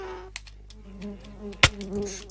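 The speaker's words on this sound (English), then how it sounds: "bees." Bees buzzing in the Minecraft video game, a few short soft buzzes and insect-like tones, close and quiet, plus one sharp click partway through.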